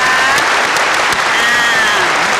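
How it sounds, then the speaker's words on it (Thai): Dense, loud applause from a large audience at a Thai school performance event, a continuous wash of clapping with a faint tone and murmurs underneath throughout. "ขอเสียงปรบมือนะคะ"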